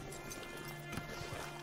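Horse hooves clip-clop faintly in Red Dead Online, a few soft, quiet hoof taps over a steady low hum.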